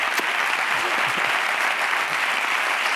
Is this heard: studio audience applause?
yes